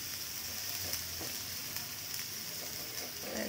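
Paneer masala being sautéed and stirred in a pan: a constant bright sizzle with occasional soft scraping strokes, close and unbroken, without speech.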